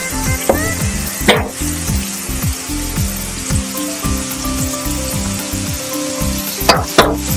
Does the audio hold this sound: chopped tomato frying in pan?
yes